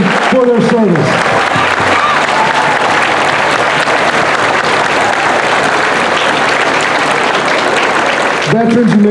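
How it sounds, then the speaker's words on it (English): A school veterans celebration audience gives sustained loud applause, dense clapping filling the room throughout, with a voice briefly heard at the start and end. "please give these outstanding veterans a round of applause"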